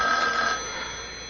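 An old telephone bell rings once in a 1970s radio drama, loud and bright at first, then fading away with no voices.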